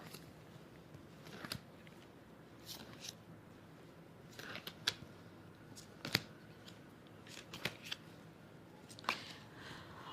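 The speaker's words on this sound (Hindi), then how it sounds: "तो पहले 7 कार्ड्स हम निकाल लेते हैं क्लाइंट के लिए।" Tarot cards are drawn one by one from a deck, seven in all, giving soft close papery slides, flicks and light snaps at an uneven pace, quiet against faint room noise.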